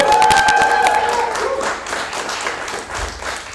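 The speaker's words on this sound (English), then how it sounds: "please a round of applause to our students" Round of applause for students at a students' union election results day, dense crowd clapping with a tonal sound at the start, strongest early and gradually thinning as it fades.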